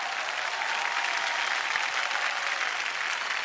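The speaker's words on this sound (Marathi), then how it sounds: "जोरदार टाळ्या होऊन जाऊ देत." Studio audience of a Marathi women's game show clapping loudly and continuously, a dense, even burst of applause with no break.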